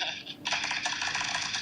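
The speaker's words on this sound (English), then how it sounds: "Like a riffle shuffle?" A quick, crisp flutter of playing cards being riffled together, close and fairly quiet, with a short pause before a longer burst.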